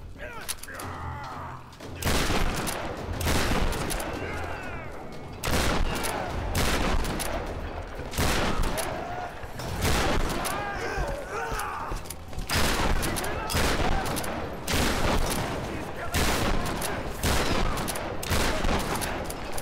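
Gunfire in the Tomb Raider video game, dense bursts of rapid shots and explosive blasts repeating through the fight with short pauses between volleys, heavy and loud.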